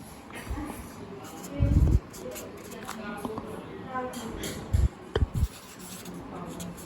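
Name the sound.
writing on a board while explaining rate of speed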